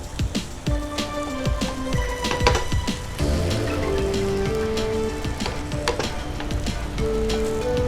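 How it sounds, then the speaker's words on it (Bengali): Chicken gola roti frying in a nonstick tawa over a flame, a steady close sizzle and crackle that runs throughout with small pops and faint utensil taps. "এবার পরপর করে ভেজে নিচ্ছি।"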